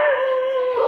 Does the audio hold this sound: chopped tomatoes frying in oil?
no